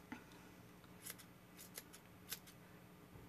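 Scissors snip loose yarn strands on a crocheted hat, several quiet crisp cuts spaced irregularly across a few seconds in a hushed room.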